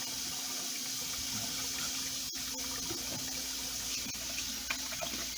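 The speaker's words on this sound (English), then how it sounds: "let me go ahead and wash my hands here real quick." Tap water runs steadily into a kitchen sink during handwashing while cooking, a constant close hiss with a few faint clinks and no talking.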